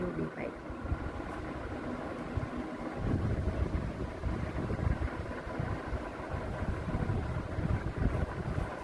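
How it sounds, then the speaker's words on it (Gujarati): Outdoor breeze buffets the microphone in a low, uneven rumble that strengthens partway through and keeps gusting to the end. "જો પવન આવે છે, મસ્ત મજાનો પવન આવે છે."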